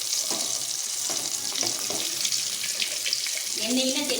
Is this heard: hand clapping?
no